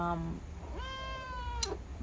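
A kitten meows once, a rising then falling cry with a clear harmonic tone, close to the mic over a low background rumble. A faint short chirp comes just before it.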